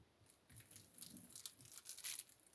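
Bubble wrap slowly peeled away in a quiet attempt, giving faint, close crinkling and light crackles that grow a little louder toward the end, no voice.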